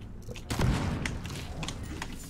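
An explosion goes off in the video game Deep Rock Galactic: a sudden, fairly quiet boom that fades into a rumbling tail.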